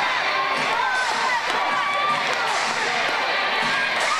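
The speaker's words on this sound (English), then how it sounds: "Listen to this crowd in Everett." A crowd cheering at a New England Championship Wrestling show in Everett, a dense continuous roar of shouting and whistling voices filling the room at steady loudness throughout.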